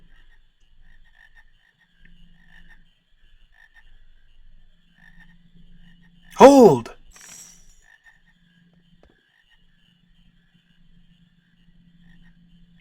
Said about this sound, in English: Aha! Frogs!